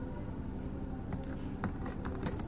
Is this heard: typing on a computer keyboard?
yes